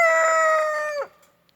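A rooster in a home backyard henhouse crows once, a loud, close, harmonically rich call that holds steady for about a second before dropping away into quiet.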